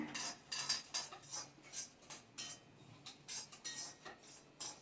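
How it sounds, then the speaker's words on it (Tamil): Varagu (kodo millet) rice grains roasting in a pan on a low flame give off rapid, irregular crackles and light clinks in quick bursts, close and moderately loud, with no talking. "நல்லா பொரியுது பாருங்க, இந்த மாதிரி நல்லா பொரியணும்"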